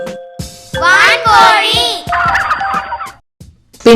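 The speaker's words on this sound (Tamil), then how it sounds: "வான்கோழி" A turkey gobbles in a bird-sounds sequence, a loud rapid warbling, rattling call in bursts over a few seconds, with a brief voice naming the bird nearby.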